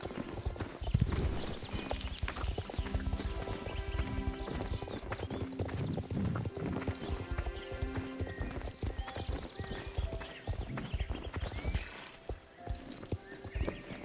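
Steady clip-clop of a foal's hooves in Star Stable Online with an occasional whinny, set against busy game music and ambient effects.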